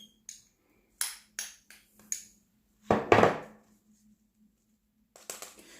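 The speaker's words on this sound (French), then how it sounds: "j'écrase, j'appuie avec ma cuillère" A spoon presses and packs homemade soap mixture down in a container, producing a series of short, dry scraping and tapping knocks with one longer, louder grinding press in the middle, close up and surrounded by silence.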